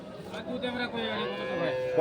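A dairy cow gives a long, drawn-out moo close by at the Kaharol cattle market in Dinajpur, with faint murmur of people in the background.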